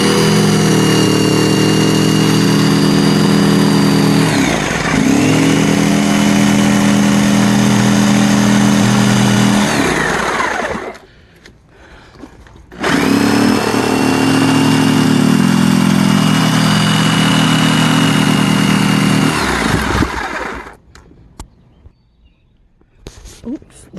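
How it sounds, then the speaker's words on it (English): A jigsaw cuts through wooden deck boards in two long, loud, close bursts, its buzzing motor pitch sagging under load before each stop, with a short quiet pause between them. "I think I'm gonna just go up the middle with my jigsaw"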